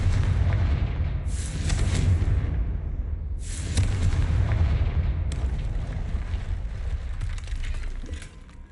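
A Confringo spell blasts a barrier in Hogwarts Legacy on Xbox Series X, with repeated loud rumbling booms and crackling bursts, several sharp hissing flares, and a continuous deep roar that eases only near the end.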